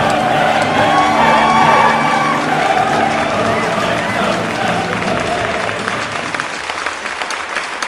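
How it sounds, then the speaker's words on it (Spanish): A concert audience claps and cheers wildly as dense, sustained applause with whoops mixed in, heard close and loud before it thins slightly toward the end. "el público lo aplaudía con locura"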